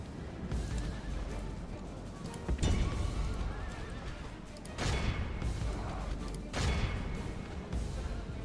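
In a video game battle, horse archers charge with loud neighs and whinnies over a dense drumming of hooves, with bursts of neighing surging every few seconds.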